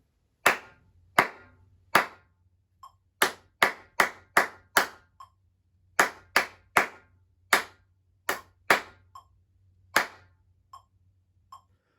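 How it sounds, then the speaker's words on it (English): Students clap a counted rhythm in a classroom: about twenty sharp claps in uneven groups with short rests between, crisp and close with quiet gaps. "Let's count and clap this one."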